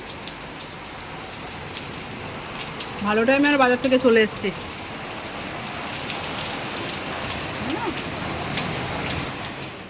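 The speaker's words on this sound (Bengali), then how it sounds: "আর বাইরে হচ্ছে মুষলধারে বৃষ্টি" Steady heavy rain drums outside during a storm, with someone speaking briefly over it near the middle.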